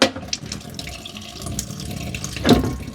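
Warm water runs steadily from a tap into a sink in an off-grid island home, a close, continuous splashing flow with a slightly louder gush near the end.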